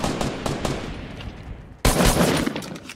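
Rapid bursts of submachine gun fire in Fortnite during a Blitz Squads match, a close, loud burst of shots at the end following quieter, sustained gunfire.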